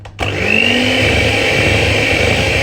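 An electric mixer whirs steadily through vegan icing as extra icing sugar goes in, starting abruptly after a brief quiet moment and holding a loud, continuous drone throughout.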